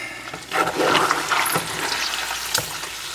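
Hog fat rendering into lard in a pot, stirred continuously; a steady, moderately loud bubbling sizzle with wet churning and occasional scraping sounds.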